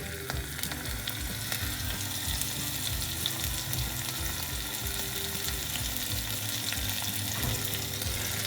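Green chilies sizzle in hot oil with cumin seeds for a farali kachori filling, a steady close-up frying hiss running throughout with occasional stirring scrapes.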